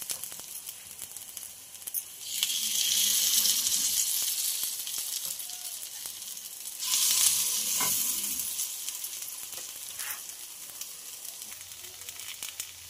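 Appe batter fries in an appe pan with a soft background crackle, swelling into two loud bursts of sizzling as fresh batter hits the hot cavities, then settling back down.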